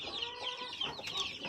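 Newly hatched chicks peeping in a backyard brooding setup, a flurry of high, rapid chirps from several birds close by with no talking.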